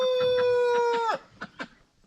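On a farm where hens are brooding chicks, a rooster lets out one long, loud crow lasting about a second, followed by several short, close clucks and calls from chickens.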